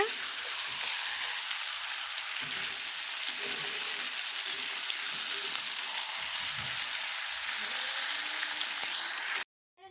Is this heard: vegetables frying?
yes